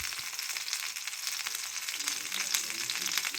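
Bangude fish coated in masala and rice flour frying in hot oil, a steady, even crackling sizzle that stays close and unbroken throughout.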